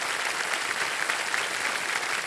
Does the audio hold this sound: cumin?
no